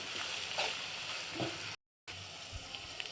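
Ginger garlic paste frying in a pan gives a steady, close hissing sizzle with light stirring scrapes throughout. The sound cuts out briefly to silence partway through, then resumes.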